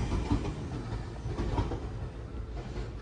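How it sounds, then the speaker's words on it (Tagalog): Old Japanese D5272 steam train rolling past, a steady rumbling rail noise with faint clicks of the wheels, fairly close and continuous, with no talk. "Sinaunang train."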